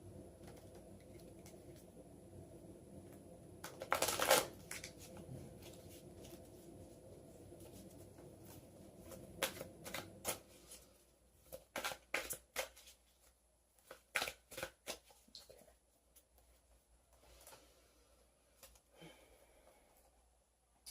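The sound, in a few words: shuffling Santa Muerte tarot cards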